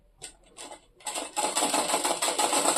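A sewing machine stitching along the edge of a pleated (kali) skirt, starting with a few light ticks and then settling into a loud, steady, rapid whirring run.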